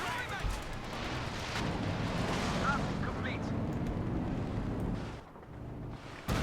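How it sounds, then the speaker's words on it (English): Rocket barrage from Stuka dive bombers slams down in a Company of Heroes 2 battle between US forces and German Volksgrenadiers, a dense continuous rumble of booms and crackling blasts that eases briefly near the end before another hit. "Stuka rockets landing."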